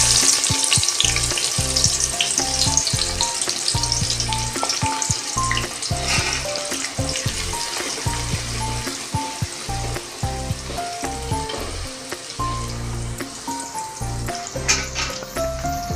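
Onions sizzle and crackle in hot oil in a cooking pot for a chicken spinach curry. A dense, continuous frying hiss runs close and loud throughout, with no talking.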